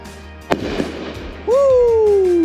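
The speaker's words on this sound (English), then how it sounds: "we're gonna light off a couple fireworks" Fireworks are set off outdoors in Wyoming: a sharp launch pop followed a second later by a loud, sustained whistling shriek that slowly falls in pitch, with a voice briefly heard in the background.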